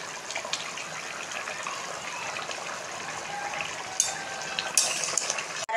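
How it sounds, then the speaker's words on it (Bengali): Bengali bhetki (barramundi) fish curry bubbling in a pot on a gas stove, a soft steady simmering hiss with a couple of faint clinks near the end. "আমার মাছের ঝোলটা হয়ে গেছে, কত সুন্দর ফোট উঠছে"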